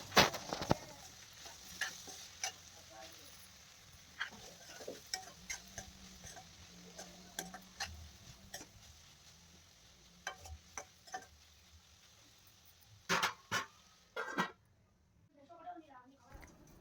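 Ivy gourd pieces are tossed with chili powder and salt, giving faint scattered clicks and soft scraping in a quiet kitchen, with a voice talking quietly underneath.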